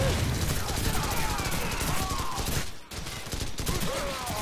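Bursts of rapid gunfire from Call of Duty 4 rattle nearly nonstop, loud and close, breaking off for a moment before the shooting resumes, while voices talk over the battle.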